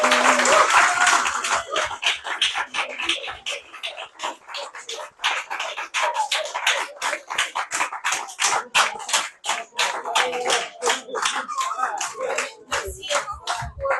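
A French science audience claps for speaker Léna Arthur after an astronomy talk on multi-messenger astronomy and black hole simulations. The applause is moderate and uneven, made of distinct individual claps that thin out over time.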